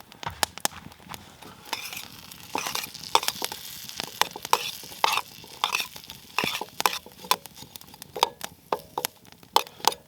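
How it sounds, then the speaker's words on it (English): Fish fries in a pan with onions and butter at a wilderness campsite, soft sizzling under repeated sharp clicks and scrapes of a utensil stirring against the pan, fairly close and quiet. "Monty's Larry is cooking"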